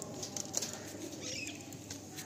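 A female pigeon's wings flap in a short flurry as she is released, soft and fairly close over a steady background hiss.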